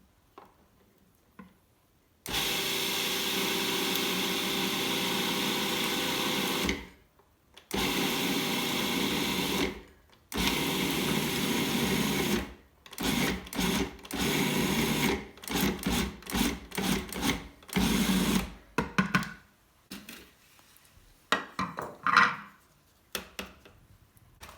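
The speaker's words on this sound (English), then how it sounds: "Now using the food processor, we're gonna mix the egg whites with our almond paste sugar mixture." Food processor mixing egg whites with almond paste and sugar for pine nut cookies, running in loud steady whirring bursts, first longer, then short rapid pulses separated by silence, close by with no talk.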